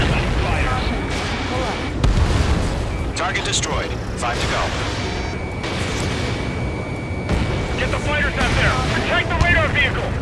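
Anti-aircraft guns firing in the Ace Combat 7 flight combat game, a steady rumble of booms and bursts running under constant urgent radio chatter from several voices.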